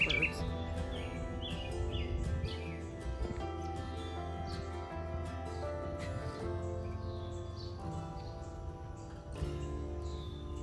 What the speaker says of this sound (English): These little birds.